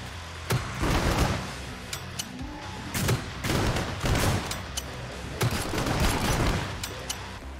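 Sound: pistol gunfire in the video game Killing Floor 2

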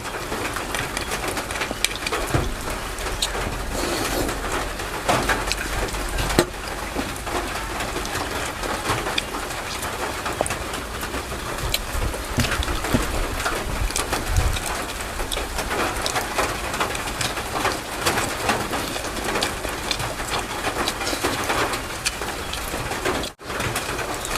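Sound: rain falling, first rain of the year

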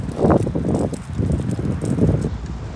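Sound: strong cold wind outdoors

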